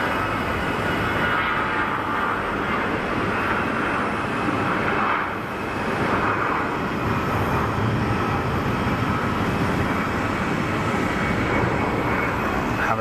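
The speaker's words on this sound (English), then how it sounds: "So the CFM motors on these aircraft. CFM 56, is it?" CFM jet engines of an Airbus A220 at Geneva Airport, a steady broadband roar with a sustained rushing whine, distant but loud and continuous throughout.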